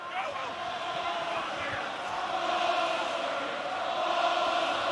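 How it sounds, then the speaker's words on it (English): A festive rugby crowd at an Ulster v Munster match, a steady dense roar of many voices in a stadium with scattered cheers and chanting, continuous throughout. "Crowd feeling festive."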